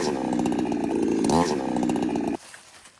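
A chainsaw runs at high revs while felling hardwood trees, a loud, close, buzzing whine with a brief pitch rise before it cuts off abruptly near the end, leaving quiet outdoor ambience.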